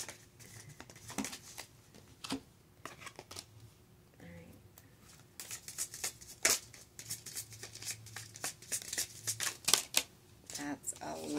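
Tarot cards shuffled by hand in quick, papery riffling bursts that come and go at close range, with pauses between runs and some speech at times.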